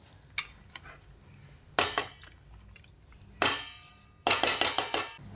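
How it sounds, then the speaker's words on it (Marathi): Garlic tempering in hot oil for a traditional Konkani taro leaf curry, heard as several sharp clattering bursts with short sizzling flares and quiet gaps between them, close and fairly loud. "आम्ही ह्याच्यातमध्ये फक्त लसणीचीच फोडणी देतो"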